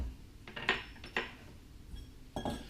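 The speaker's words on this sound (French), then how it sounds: "Remélangez bien, que les pommes soient bien mélangées entre la pâte." Apples stirred into cake batter, a few soft clinks and scrapes of a utensil against the bowl, close and quiet, spaced irregularly.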